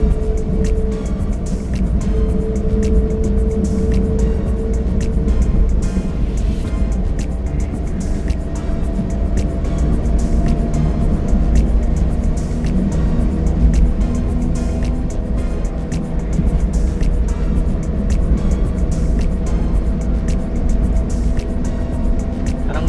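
A Suzuki DR17V 4x4 automatic with a turbo engine runs steadily at around 2,500 to 3,000 RPM, a loud, continuous low drone with road rumble heard from inside the vehicle.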